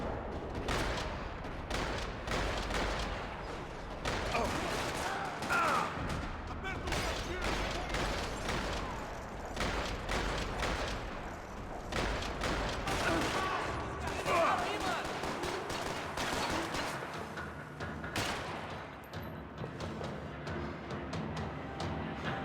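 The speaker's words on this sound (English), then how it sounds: "Another parking lot rattling with gunfire." Gunfire rattles through a parking lot in the video game Max Payne 3, with dense bursts of shots and impacts going on continuously and loudly throughout, mixed with other game action and some voices.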